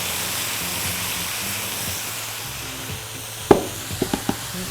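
Soy sauce poured into a pot of vegetable lo mein, giving a steady moderate hiss and sizzle with a few sharp utensil clinks toward the end.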